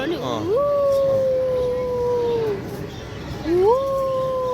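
A jackal at the zoo lets out two long, rising howls, the first sustained for about two seconds and the second starting shortly after, fairly close and loud over a background of rain and people talking.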